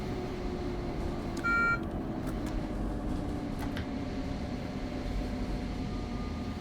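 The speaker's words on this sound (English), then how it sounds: "Approach signal all of a sudden out of the blue." An NJ Transit ALP-46 electric locomotive cab gives a short single alert tone for an approach signal near Morristown, heard briefly over the steady rumble and hum of the locomotive climbing uphill.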